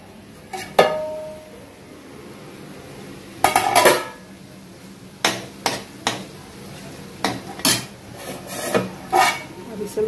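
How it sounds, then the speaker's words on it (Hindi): A lid is set over a cooking pot of fried rice with the gas turned off, giving a string of sharp metallic clanks and clatters spaced irregularly across the moment, fairly close and loud. "गैस को बंद करके अब इसे मैं ढक देती हूँ"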